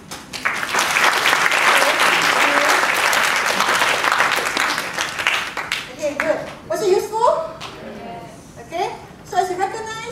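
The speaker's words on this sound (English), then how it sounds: "Can we give Deric a round of applause?" Seminar audience applauding at a business event in Malaysia, loud dense clapping for about six seconds that then thins out and fades as voices talk over the last part.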